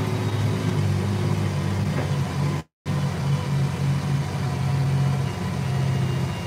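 A tractor engine drones steadily under load in 4-wheel drive and 10th gear, climbing a hill at 6.8 mph, close and continuous, with a brief dropout partway through before the low rumble resumes.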